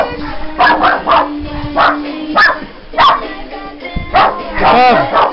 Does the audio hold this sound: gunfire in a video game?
no